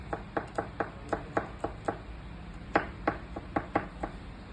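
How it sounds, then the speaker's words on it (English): A knife chops garlic on a board in a steady run of crisp, close taps, with a short pause before a second quicker burst. "I will cut the garlic"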